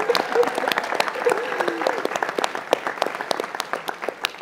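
Audience applause at a housing summit, a dense steady burst of many hands clapping that carries on under a voice speaking over a microphone.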